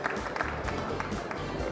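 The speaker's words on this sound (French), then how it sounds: "On vous applaudit." Audience applause fills a French award ceremony for made-in-France prizes, a steady dense wash of clapping held at an even level throughout.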